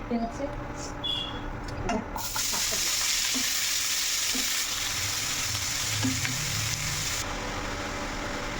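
Mustard seeds frying in a pan alongside red amaranth greens, a steady sizzle that swells louder partway through, with stirring and a voice talking over it.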